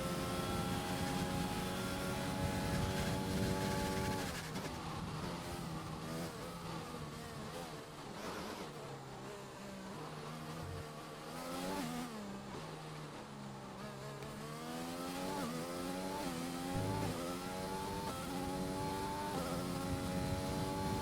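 A racing car engine in a racing video game whines and revs up and down through the gears, continuous and fairly faint with no voices.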